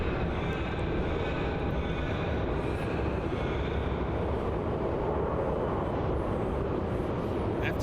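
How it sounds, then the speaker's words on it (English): A Boeing 787-9 airliner at Melbourne Airport gives a continuous, loud broadband jet roar that holds steady throughout, with no talk over it. "But there it is, the 787-9."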